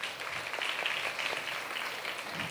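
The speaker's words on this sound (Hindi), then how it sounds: "आशु के लिए ताली बजा दो" A church congregation breaks into a brief round of applause for a woman during a sermon, steady hand clapping from many people spread evenly through the room, moderately loud and sustained without pause.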